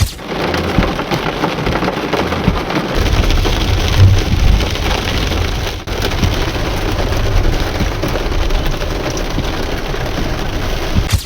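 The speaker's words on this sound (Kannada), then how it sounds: "ನಿನ್ನೆ ಸಂಜೆ ಸುರಿದ ಭಾರೀ ಆಲಿಕಲ್ಲು ಮಳೆಗೆ ಸಿಟಿ ಜನ ಬೆಚ್ಚಿ ಬಿದ್ದಿದ್ದಾರೆ." Heavy pre-monsoon rain with hail pours down across a city in the evening, a continuous dense roar of drops hammering surfaces with low rumbling underneath, steady and loud throughout.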